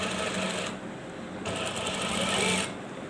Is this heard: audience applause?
no